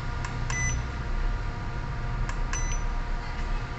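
A tester set to beep mode sounds a few short electronic beeps in pairs during a repair of an HP i5 8th-gen laptop with no power, with a steady hum underneath and no talk.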